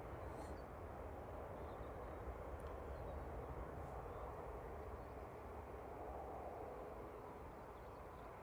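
Singapore Airlines Airbus A350-900 departing Manchester Airport, a steady, distant, broadband jet engine roar that holds a constant level throughout, with no talk over it.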